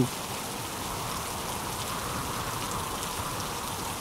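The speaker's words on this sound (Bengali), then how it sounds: "এই বৃষ্টি কমবে বলে মনে হচ্ছে না" Heavy rain falling steadily in a dense, even hiss of drops striking surfaces, constant and unbroken throughout, moderately loud with no voices.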